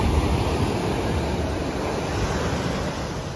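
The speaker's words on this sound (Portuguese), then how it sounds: "Olha essa onda." Ocean waves break on a Rio de Janeiro beach in a continuous, full rushing roar of surf, steady and loud with no distinct crashes, with no voices.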